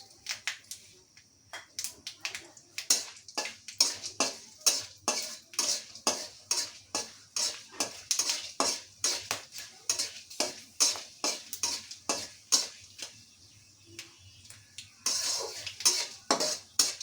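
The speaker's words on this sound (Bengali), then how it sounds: "মশলাগুলো ভাজা হয়ে গেছে, এখন আমি এগুলোকে তুলে নেব।" Dry spices stirred and fried in a wok with a light oil, repeated scraping clinks of a metal utensil against the pan in a steady rhythm, close and crisp, with faint sizzling beneath.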